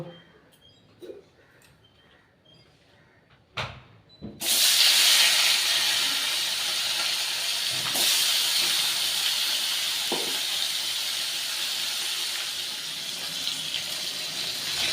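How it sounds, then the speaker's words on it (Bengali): A few clinks and faint taps, then a loud burst of sizzling as fish hits hot mustard oil, settling into steady, close frying hiss. "তেলটা খুব ভালো করে গরম করে নিয়েছি এবার আমি মাছগুলো ভেজে দেব"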